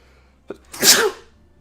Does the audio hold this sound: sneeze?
yes